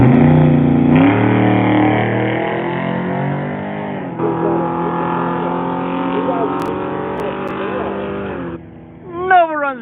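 Drag strip run pitting a 1969 Chevrolet Nova against a 2016 Camaro, loud engine roar sustained for most of the pass with a shift partway, fading near the end under a voice.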